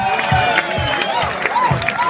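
Audience applause and cheering at a live punk concert in Imbersago, a steady crowd wash of clapping with whistles and shouts, fairly loud and continuous.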